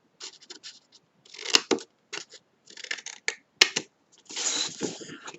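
Scissors snip through paper while making embellishment boxes, a close series of short crisp cuts and rustles separated by brief pauses, ending in a longer scraping pass.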